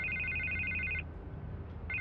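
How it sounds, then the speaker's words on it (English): A telephone rings in Batman: The Telltale Series, a bright electronic double-toned trill held for about a second, a short gap, then the ring starting again, loud and close over low background sound. "I can't get the phone to stop ringing"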